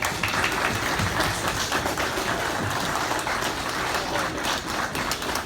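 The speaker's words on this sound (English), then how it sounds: "So please give them a round of applause." Broad, steady applause from a crowd at a cattle auction, dense clapping held at an even level throughout, with no voices standing out.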